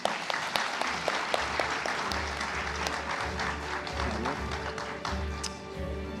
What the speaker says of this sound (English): Please join me in one more round of applause for our speakers.